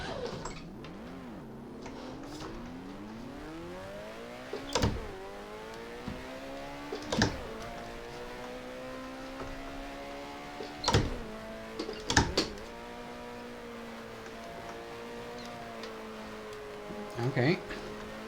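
A 1970 Formula One car in the F1 Challenge racing game whines steadily, its engine pitch climbing and dropping through several sharp gear shifts, with a voice occasionally present beneath.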